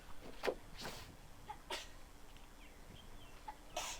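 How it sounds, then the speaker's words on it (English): Several short, sharp bursts pop out over a quiet background, a few sneezes spaced irregularly, fairly soft and a little distant. "Great hold on the sneezes there."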